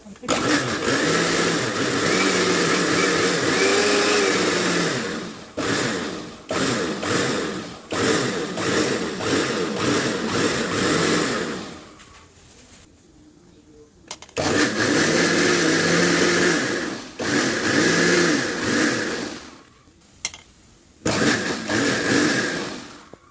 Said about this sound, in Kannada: ಸ್ವಲ್ಪ ನೀರು ಹಾಕೊಂಡು ಮತ್ತಿದ್ನ ಮಿಕ್ಸರ್ ಮಾಡ್ಕೊತೀನಿ